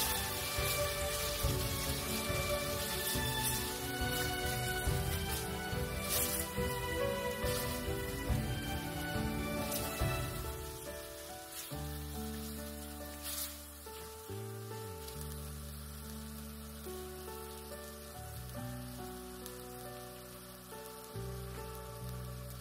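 Ginger garlic paste sizzles steadily in a hot karahi as it is stirred in for Lahori karahi gosht, a continuous hissing fry that grows quieter partway through while tonal background music plays.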